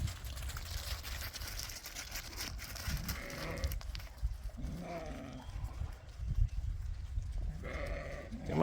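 A flock of sheep being moved to pasture gives out repeated bleats and shuffling over continuous farmyard background noise, heard from close to middle distance.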